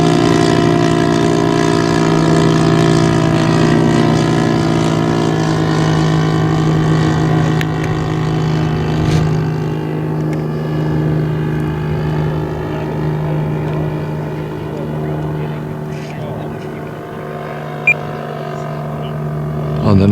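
A Tiger Moth biplane engine droning loud and steady in flight over a circuit, a constant close buzzing hum with a faint voice briefly under it.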